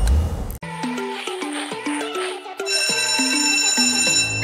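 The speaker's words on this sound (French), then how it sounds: "Oh, c'est la sonnerie!" A bright electronic school bell tone rings in a repeating stepped melody, loud and close, continuing steadily with no talk over it.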